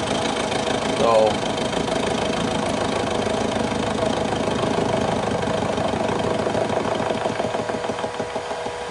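A mini mill fitted with a 50mm four-flute face mill takes a pass across a four-inch piece of steel, giving a steady grinding, engine-like drone that runs continuously, with a person talking briefly over it.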